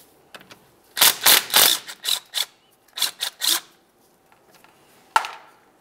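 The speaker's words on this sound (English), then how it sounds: "We can continue on with a 14mm to remove our banjo bolt." A 14mm wrench works a brake hose banjo bolt loose on a 2003-2011 Mercury Grand Marquis, giving a few short bursts of clicking wrench turns close by, then a pause and a single sharp click.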